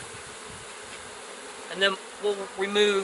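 Honey bees buzz at an open hive while a keeper smokes them during queen rearing with a Nicot system, a steady low hum under a few short spoken phrases from a nearby voice.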